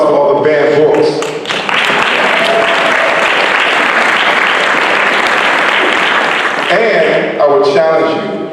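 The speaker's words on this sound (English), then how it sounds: "Let's get a round of applause for all the banned books." A large audience at an awards ceremony bursts into loud, dense applause that holds steady for several seconds, with a voice speaking over it at the start and again as the clapping dies away.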